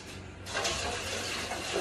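Water runs steadily into a dog's bowl for an exotic bully kennel, a hissing, splashing fill that starts abruptly and carries on close by without a break.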